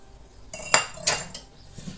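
Flour and salt stirred together in a bowl, a few close clinks and scrapes of a utensil against the dish, brief and sparse over quiet.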